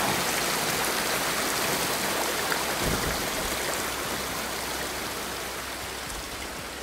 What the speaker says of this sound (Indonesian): Kan bener kan ini sungai.